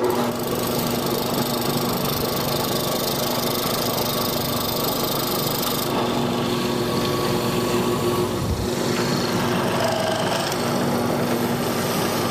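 A drill press fitted with a mortising chisel cuts a square mortise into wood, giving a loud, steady motor whine that runs without a break for the whole stretch, with a brief change partway through as the chisel plunges.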